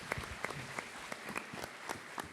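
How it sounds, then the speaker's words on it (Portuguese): Applause at a creative conference: a scattered, fairly faint round of clapping with distinct individual claps spread across the clip, no talking over it. "Palmas."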